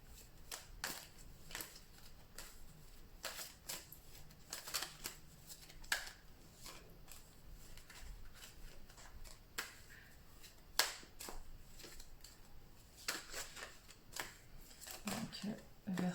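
Tarot cards shuffled for a reading, giving repeated quick riffling and slapping bursts at close range, spread through the whole stretch with soft speech or breath noise between them.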